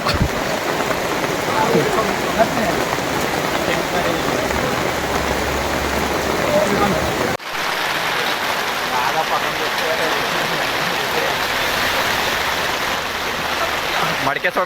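Steady, loud rain falls continuously, a dense hiss that briefly drops out midway before resuming at the same level, with faint voices buried in the downpour.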